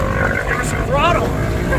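A two-stroke engine drives a homemade motorized tri-toon pontoon party barge, giving a loud, constant throttled drone close by, with people shouting over it.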